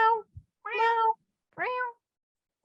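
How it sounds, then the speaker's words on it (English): Cat meows from the video game Stray: three clear, close, tonal meows in a row, spaced by short silences, with a fourth starting at the end and a soft thump between the first two. "Purely because you get to be a cat. And there's a damn meow button."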